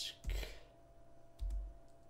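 A few quick keystrokes on a computer keyboard: two short clusters of soft clicking, close and quiet, with near silence between them.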